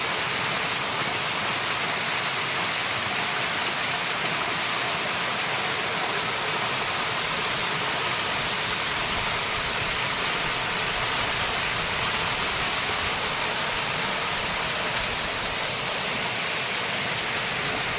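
Sesharai waterfall pours in a loud, continuous broadband rush that stays even throughout, close and unbroken, with no voices.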